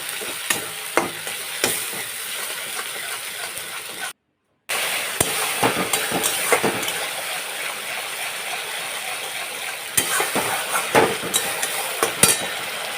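Spices with fenugreek seeds fry and are stirred in hot oil for a fish curry, giving a steady close sizzle with scraping stirs and a brief gap of silence midway.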